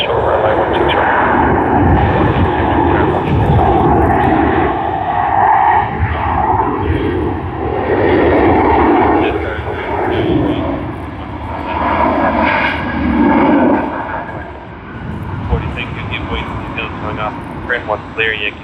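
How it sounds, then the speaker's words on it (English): An airliner lands at Sydney Airport: a loud, rushing jet roar swells and surges for several seconds, then eases and thins out, with indistinct voice chatter mixed in. "Sweet, super landing."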